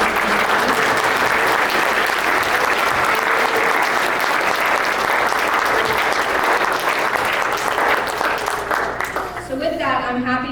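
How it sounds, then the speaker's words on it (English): A naturalization ceremony audience at Historic Locust Grove on July 4 applauds the new citizens' families in a dense, loud, sustained wash of clapping that fades near the end as a voice begins speaking. "can we give a round of applause for all of your family that helped you?"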